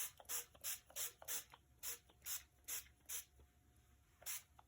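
Quick, faint, regular hissing bursts, about a dozen short sprays in steady rhythm, with light mechanical clicks between them.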